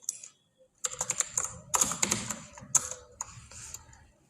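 Quick bursts of keystrokes on a computer keyboard, close and crisp, with irregular clusters of clicks and short gaps between them, no voices.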